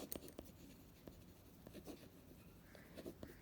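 Pen on paper for an accountancy lesson, a quiet, close scratching in short irregular strokes and taps, with no voice over it.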